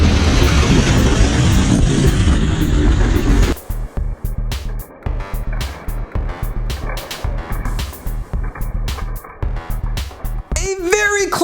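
Hot Wheels toy cars race down a track in a fast continuous rush of rolling clatter, loud and close, with a voice speaking over part of it.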